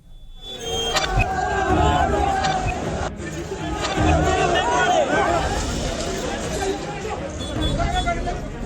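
An unruly protest crowd during a police baton charge, a loud dense roar of shouting and running voices, close and continuous, with many people yelling over one another.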